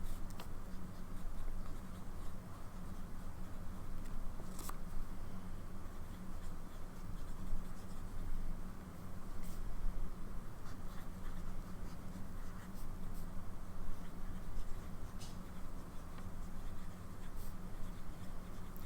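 A fountain pen scratches across notebook paper in close, soft, continuous strokes with small ticks and pauses, quiet and intimate throughout with no talking.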